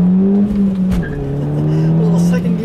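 A 2006 Volkswagen GTI with a manual gearbox pulls hard in second gear, its engine note droning steadily inside the cabin as the tires give a brief chirp, with a voice speaking over it.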